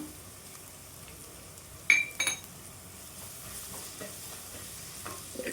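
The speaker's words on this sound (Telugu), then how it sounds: "ఈ మసాలా మొత్తం వేగేంత వరకు కలిపేసుకొని" Garam masala and coriander powder frying in a pan while being stirred, a soft steady sizzle with a couple of brief clinks of the spoon against the pan.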